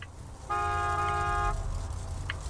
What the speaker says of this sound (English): Just drive up and honk your horn.